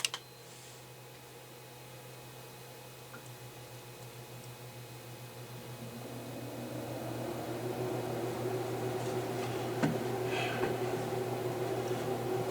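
Whynter ARC-122DS portable dual hose air conditioner running indoors: a steady low hum with a constant airy whoosh that slowly swells louder as it runs, with a faint tick or two and no talking.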